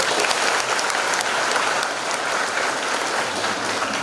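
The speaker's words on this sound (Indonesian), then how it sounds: "Tepuk tangan dulu." An audience at a school discussion forum bursts into steady, dense applause that holds loud and even for the whole stretch, with no speech over it.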